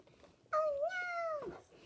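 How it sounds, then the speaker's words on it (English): A single drawn-out cat meow, loud and close, rising then holding for about a second before trailing off, against a quiet background. "Hey, kitty cat, meow, meow."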